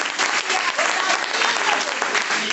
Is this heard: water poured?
no